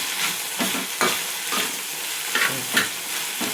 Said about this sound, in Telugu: ఇప్పుడైతే పచ్చిమిర్చి అంతా వేగిపోయింది